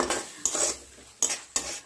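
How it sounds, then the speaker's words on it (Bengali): Spice mix and chopped tomatoes being stirred in a pan for a potato curry, with four sharp scraping clinks of a spoon against the pan over a faint sizzle, close and without talk. "এটা দিয়ে ভালো করে একটু কষাতে হবে মশলাটা"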